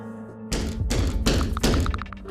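A locked door is pounded hard several times, with three or four heavy thuds in quick succession, loud and close, followed by lingering rattling.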